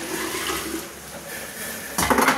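Boiled water poured out in a home kitchen while rice and vermicelli cook: a steady rushing splash that swells into a louder, brighter gush near the end, close by.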